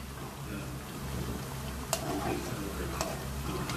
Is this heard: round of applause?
no